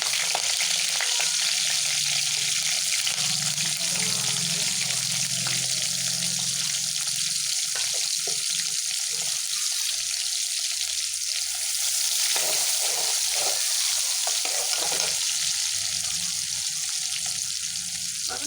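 Curry leaves and chopped onion fry in hot oil for pasta, giving a steady, loud sizzle with occasional stirring scrapes and a faint watery hiss, no voices.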